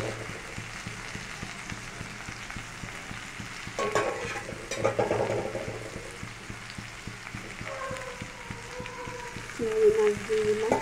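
Prawns sizzling in a pan of spiced masala, a steady close frying hiss with stirring scrapes and clatters rising over it.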